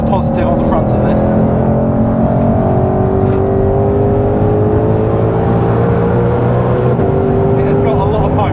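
Ford Mustang Shelby GT500 engine howling at speed on a track at a Goodwood event, a loud steady roar with rising and falling pitch as it pulls through the gears, with people talking over it.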